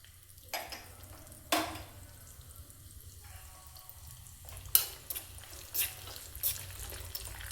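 Cashews fry in hot oil with cumin seeds in a pan as khara pongal is made. A soft sizzle runs underneath, broken by several sharp clinks and scrapes of stirring.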